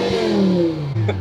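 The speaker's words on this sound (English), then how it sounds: "let's give it a rev to start up the video here" A BMW M5 E60 V10 engine blips sharply, its pitch sweeping down as the revs fall back, heard close and loud in one short burst.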